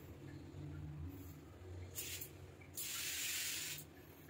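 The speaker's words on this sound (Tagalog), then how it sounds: "Spray lang natin yan dyan." Cleaner is sprayed onto an industrial round floor fan in two close, crisp hissing bursts, a brief double spritz and then a longer spray, over a low steady hum.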